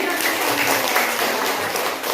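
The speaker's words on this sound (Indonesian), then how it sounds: "Tepuk tangan Lastri" A classroom of students claps for a classmate, a continuous, fairly close patter of many small hands, with voices mixed in throughout.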